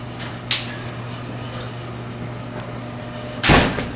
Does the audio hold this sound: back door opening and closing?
yes